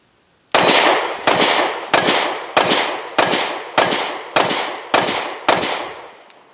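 Nine sharp, loud shots from an Anderson Manufacturing Kiger 9C 9mm pistol ring out in an even rhythm about two-thirds of a second apart. Each shot is close, with a short echoing decay, and there is no talk.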